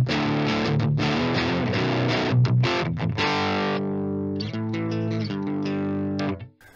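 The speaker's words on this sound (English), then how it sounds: "And this is basically the clean sound." An electric guitar plays a clean tone through an Orange amp with a Bogren impulse response, strummed chords ringing out with a few sharp muted breaks before fading into silence at the end.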